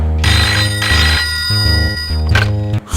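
A telephone ringtone plays loud and close, a repeating electronic melodic ring with bright sustained tones, sounding alone without speech.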